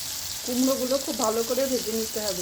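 Pumpkin pieces frying in a pan, a steady close sizzle running under a voice speaking throughout.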